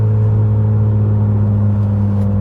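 A Honda Accord Sport 1.5T with its intercooler resonator deleted burbles at a steady idle, giving a loud, close, low droning hum without revving.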